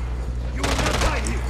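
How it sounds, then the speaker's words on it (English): Rapid gunfire bursts from a multiplayer shooter video game, starting abruptly partway through and continuing as a dense fusillade over low background rumble. "Oh, they shooting at me."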